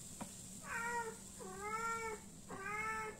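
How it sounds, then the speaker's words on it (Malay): A mother cat meows three times in drawn-out calls, faint and somewhat distant in a quiet home kitchen with a low background hum. "tolong abaikan suara mak kucing tu"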